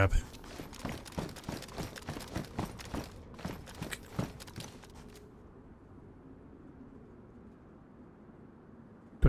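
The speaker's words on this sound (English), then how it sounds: "Do I hear footsteps? You guys hear footsteps?" Footsteps in the survival game DayZ: a steady run of soft, rhythmic thuds for about five seconds at moderate level, then fading out and leaving a quiet, low ambient hush.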